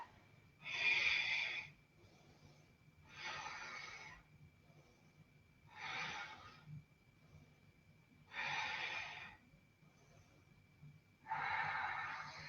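Steady nasal breathing during an Ashtanga yoga forward fold: five slow, breathy inhale-exhale rushes at even intervals of about two and a half seconds, close and fairly soft, with quiet pauses between.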